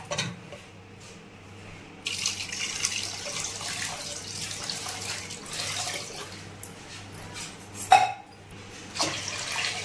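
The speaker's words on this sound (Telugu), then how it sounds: "దీనిలో మనం పులుపు తగ్గట్టు వాటర్ పోసుకుందాం" Water pours steadily into a bowl of mashed tamarind for tomato rasam, a continuous tap-like splashing stream with a brief louder splash near the end.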